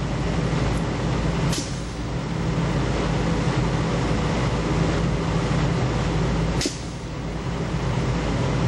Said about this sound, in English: The motor's speeding up to maintain the CFM.